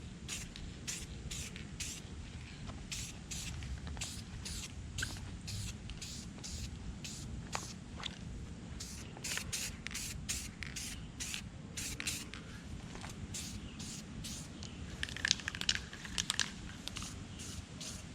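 Short bursts of spray paint go on as a light first coat, a rhythmic series of brief hissing puffs with small pauses between them, close and fairly quiet over a low background rumble.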